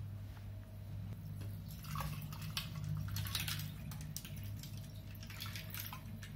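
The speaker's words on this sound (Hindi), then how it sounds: "अब हम इसमें 1 गिलास सोडा डालेंगे।" Soda being poured into a non-alcoholic lemon mojito, a steady close fizzing, splashing pour that runs for several seconds without talking.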